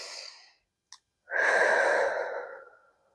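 A narrator demonstrates slow, deep breathing, helping a girl calm her racing heart: a long exhale, a short catch of breath, then one loud, drawn-out inhale-exhale lasting over a second, close and breathy with no talk.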